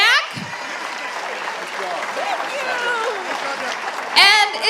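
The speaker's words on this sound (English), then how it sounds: "Give them one more round of applause." An audience at a dance competition show applauds in a sustained, dense burst of clapping, with a few cheers and voices mixed in.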